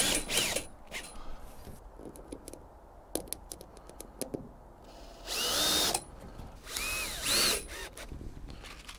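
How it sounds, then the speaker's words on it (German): Cordless power drill driving small screws into greenhouse panels, with two loud whirring bursts of the motor standing out after scattered clicks and handling knocks, close by and with no one talking. "Und dann schraube ich die einfach mit den kleinen Schrauben fest."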